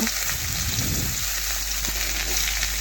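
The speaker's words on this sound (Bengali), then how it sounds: "তেল গরম হয়ে গেছে ভেন্ডিগুলো প্রথমে দিয়ে দিচ্ছি ভেন্ডিগুলো দিয়ে লবণ আর সামান্য হলুদ দিয়ে আমি একটু নাড়াচাড়া করে হাফ ভেজে নেব" Okra frying in hot oil with salt and turmeric, a steady close sizzle running the whole way with a burst of louder spattering near the start, no voices.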